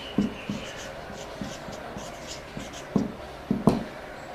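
Chalk or pen taps and scratches on a board during a chemistry lecture, a handful of short, separate strokes spread unevenly, with a faint voice in the background.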